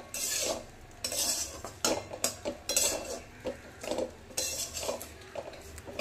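A spoon scrapes and clinks around a pot, stirring powdered milk into a cooled semolina mixture for suji malai barfi, in uneven strokes that come close and moderately loud, with no voices.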